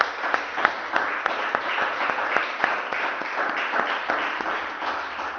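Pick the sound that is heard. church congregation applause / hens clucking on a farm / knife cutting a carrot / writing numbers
church congregation applause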